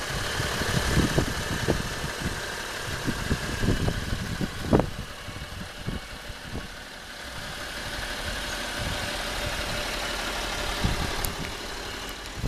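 A 2010 BMW 335d turbo diesel inline-six idles just after startup, a steady diesel clatter close by with a few sharp knocks and clicks scattered through.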